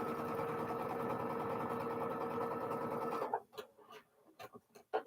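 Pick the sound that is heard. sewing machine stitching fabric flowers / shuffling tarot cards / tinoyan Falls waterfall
sewing machine stitching fabric flowers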